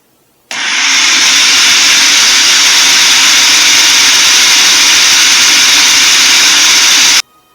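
A blender whirs steadily at high speed, mixing basil and garlic as olive oil is poured in, loud and close, starting abruptly and running unbroken for about seven seconds before cutting off.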